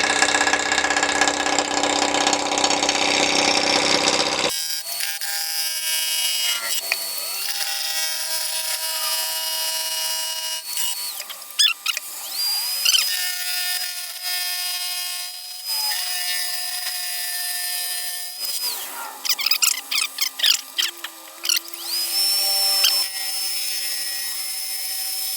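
A wood lathe spins a poplar urn around 900 rpm while a freshly sharpened gouge cuts, giving a sustained whine with scraping, rasping tool contact and intermittent chattering bursts, loud and close, with no voices.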